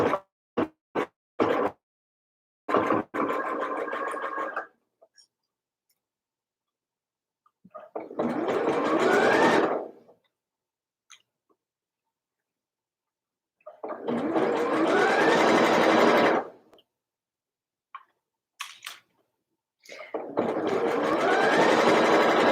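A sewing machine stitches a folded sweater hem in three separate runs of several seconds each, loud and close, with near-silent pauses and small clicks between the bursts.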